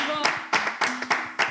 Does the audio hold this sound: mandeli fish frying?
no